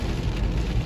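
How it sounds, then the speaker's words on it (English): Heavy hurricane rain pounds a car as it drives, a dense, steady roar of downpour with no break across the short moment. "So the rain is coming down in buckets now."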